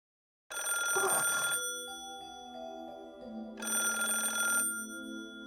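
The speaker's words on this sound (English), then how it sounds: "The denwa is ringing incessantly." A telephone in a video game rings in two electronic bursts separated by a pause, with a steady synthetic tone lingering between them.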